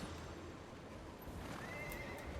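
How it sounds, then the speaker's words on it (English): A horse whinnies once in Guild Wars 2, fairly faint, over a steady low background hum. "Horse noise."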